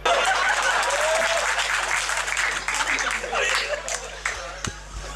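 Audience clapping at a live Hindi comedy show, a burst of dense applause that starts loud and gradually thins, with a few laughs and stray voices mixed in.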